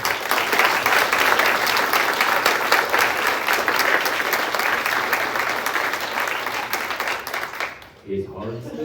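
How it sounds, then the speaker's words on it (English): A concert audience gives sustained applause at a high school symphonic band's Christmas concert. The clapping is loud and full and fades near the end, where a voice begins speaking. "please give them a round of applause"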